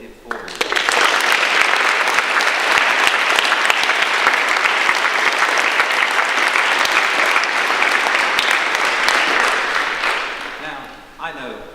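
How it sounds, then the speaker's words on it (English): A school assembly audience of students applauds their teachers with a sustained, dense wash of clapping that holds steady for around ten seconds before tapering off near the end. "we should give all the teachers a round of applause for what they did for you"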